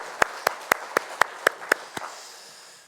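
A church congregation at a Sunday worship service claps in unison, about eight sharp, evenly spaced claps in a steady rhythm that then stop, leaving a soft room tail.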